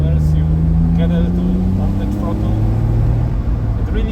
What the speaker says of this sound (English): You hear the engine buzzing right behind your head.